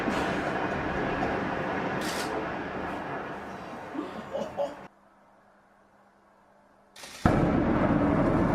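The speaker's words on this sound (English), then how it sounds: "At the time, it was the tallest building in Europe ever demolished with explosives." Explosive demolition of a 32-story concrete tower, the tallest building in Europe then brought down with explosives: a loud sustained rumbling roar that cuts to near silence, followed by a sudden powerful blast.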